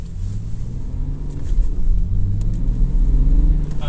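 Steady low road rumble of a car being driven, with the engine and tires droning evenly throughout and swelling slightly louder toward the end, heard from inside the cabin with no talk.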